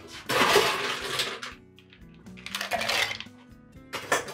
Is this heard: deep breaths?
no